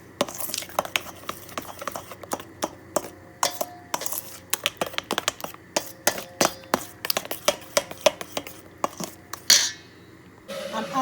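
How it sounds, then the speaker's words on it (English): Yeast dough for a cheese pastry being mixed in a bowl, a busy run of irregular clinks, knocks and scrapes of utensil against the bowl, close and fairly loud, with a brief louder rustle near the end. "Added my yeast. So now let's mix it."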